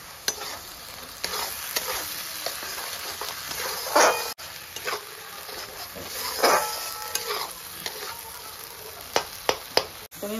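Spice paste with tomato paste, turmeric and salt is stir-fried with a little water for egg malai curry, giving a continuous close sizzle broken by repeated scraping stirs and a few sharp knocks of a utensil against the pan.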